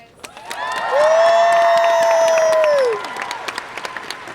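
A climate strike rally crowd claps and cheers for someone speaker, building quickly to a loud burst with a sustained whistle or cheer over it, then fading into scattered claps.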